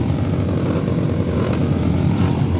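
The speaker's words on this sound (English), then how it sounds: "Just listen to those engine guys. It sounds amazing, doesn't it?" Dirt track motorcycle engines in a novice 350 class race droning steadily and loudly, a dense continuous roar with no pauses.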